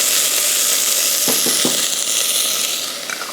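Onions, garlic and ginger sizzling in butter in a hot pan, a loud, close, steady hiss with a few brief stirring clatters near the middle, no talking.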